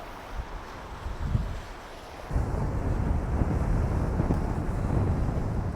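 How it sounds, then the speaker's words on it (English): Strong wind buffets the microphone on a pier by old bastions, a continuous low rumbling roar that grows louder and steadier partway through, with faint waves or water beneath and no speech. "It's super windy here,"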